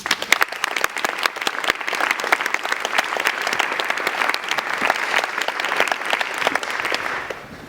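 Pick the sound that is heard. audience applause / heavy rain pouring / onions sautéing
audience applause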